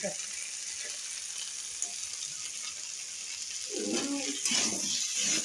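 Shrimp and potatoes cook in a pan with a steady, bright hiss of frying oil throughout, and a voice speaks briefly toward the end.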